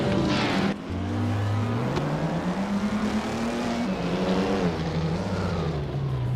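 A 1956 Lancia D50 race car in a video game roars from the start with rising, revving engine tones as it pulls away at the head of the pack, loud and continuous with other cars in the mix.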